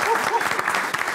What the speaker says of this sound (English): They deserve a round of applause for that.